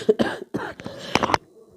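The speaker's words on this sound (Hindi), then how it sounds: "खांसी बहुत ज़्यादा आ रही है मुझे" A woman coughs several times in quick, harsh bursts close by, with a throat-clearing rasp before it trails into quiet.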